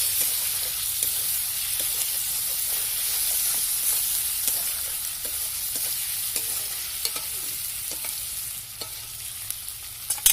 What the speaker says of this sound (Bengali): টমেটোটা নরম হয়ে যাওয়া পর্যন্ত নেড়ে নিচ্ছি